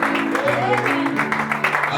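A church congregation claps and cheers together during a morning service, with a dense wash of applause under which voices call out and a tonal hum carries.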